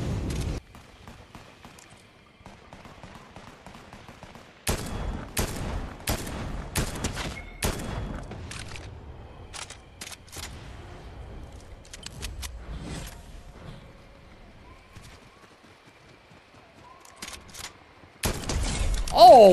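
Gunfire in Fortnite cracks out as sharp, loud shots, first as a single early report and then as a quick cluster of rapid bursts, with quieter stretches between them and a final loud burst near the end.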